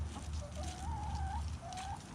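A chicken clucks near a farm trailer under repair, with a short run of thin tonal clucks over steady low background noise.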